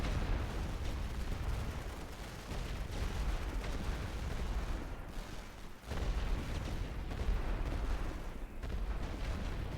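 A full artillery barrage in the World War I strategy game The Great War: Western Front, a dense continuous roar of distant shelling and gunfire with no break, moderately quiet throughout.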